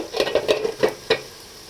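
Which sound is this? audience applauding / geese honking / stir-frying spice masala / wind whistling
stir-frying spice masala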